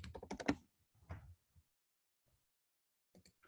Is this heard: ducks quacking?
no